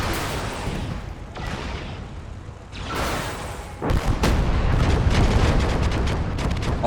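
A Baneblade tank blasts its heavy guns in a video game battle against a Chaos army, giving deep, loud, rumbling booms layered over continuous battlefield noise.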